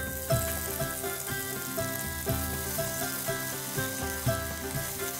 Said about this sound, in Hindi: हम इसमें अदरक लहसुन और हरी मिर्च का पेस्ट डालेंगे।